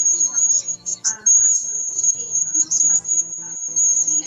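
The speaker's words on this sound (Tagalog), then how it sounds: "Kaya, makuliglig yan." Crickets chirp in a steady, continuous high trill throughout, with some faint background voices and activity beneath, at a rural spot away from town traffic.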